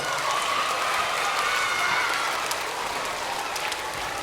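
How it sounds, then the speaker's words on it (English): A full school audience of young children applauds themselves at the end of an assembly show, giving a loud, continuous, even clapping throughout. "Give yourselves a round of applause."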